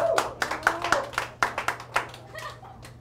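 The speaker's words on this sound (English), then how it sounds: "let's just give them one more round of applause as a group" A small group claps at a campaign headquarters grand opening for a New York City Council candidate, sparse separate handclaps sounding close and uneven for about three seconds with no talking.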